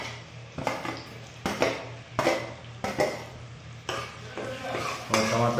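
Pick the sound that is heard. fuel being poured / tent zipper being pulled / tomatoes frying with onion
tomatoes frying with onion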